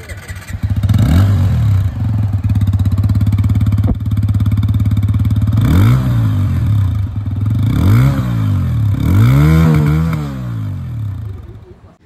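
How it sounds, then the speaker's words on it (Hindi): A 2024 TVS Apache RTR 160 2V Racing Edition motorcycle engine idles with a deep exhaust burble, then revs sharply several times in quick bursts before cutting off near the end. "दोनों ही बाइक की जो एग्जॉस्ट साउंड है वो भी आप लोगों ने सुन ली है"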